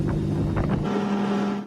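A motorboat towing a barefoot water skier on a lake drones close by, its engine hum steady under heavy wind buffeting on the microphone before fading slightly at the end.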